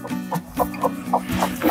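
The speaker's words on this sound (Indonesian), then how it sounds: "Ada bebek guys, ada bebek yang ngomong ayam." A duck on a muscovy duck farm calls in a quick run of short, rhythmic clucking honks, close and fairly loud, about eight calls in under two seconds.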